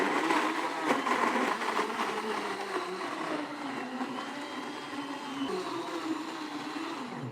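A kitchen blender pureeing peaches on a pulse or smoothie setting, a steady whirring motor drone with grinding texture, loudest at the start and easing slightly as the fruit breaks down.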